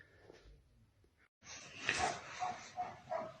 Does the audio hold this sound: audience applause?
no